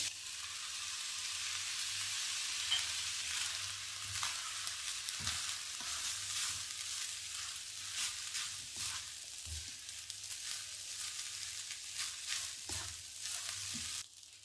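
Egg fried rice sizzles in a hot pan while being stir-fried, a steady close crackle broken by repeated scraping and tossing strokes, with no talk.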